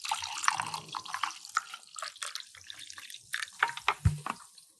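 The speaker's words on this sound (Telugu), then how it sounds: "ఇందులో వాటర్ యాడ్ చేద్దాం" Water poured into a glass holding a Glutadelight tablet, close up, with splashing and trickling bursts in uneven spurts, a few louder gurgles near the end.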